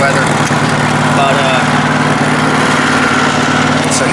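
The engine of the General Lee race build runs after a hard cold start, giving a steady, loud, low idle drone with a constant vibrating rumble and no breaks.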